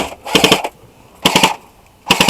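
Airsoft gun firing in three quick bursts of rapid snapping shots, loud and close, separated by short pauses with no talk over them.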